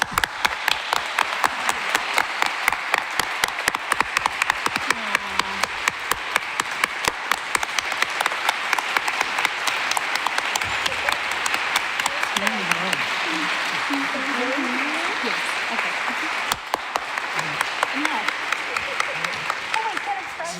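A congregation at an Erev Shabbat service applauds as an honoree is called up for a service award: sustained, dense clapping running for about twenty seconds, with voices murmuring underneath.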